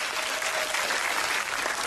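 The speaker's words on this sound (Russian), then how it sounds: "Ольга Кокорейкина, ваши аплодисменты." A television studio audience applauds steadily, dense clapping filling the space without pause for a couple of seconds.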